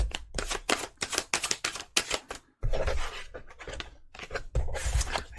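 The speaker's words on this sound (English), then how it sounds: "If you do not like to watch the shuffling" Tarot cards shuffled by hand in quick bursts of crisp, papery riffles and flicks, close and clear, broken by a brief pause and then a denser, smoother shuffle passage.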